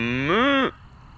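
A single cow on a farm gives one loud, close moo lasting about two-thirds of a second, rising slightly in pitch and then cutting off, with quiet ambience afterward.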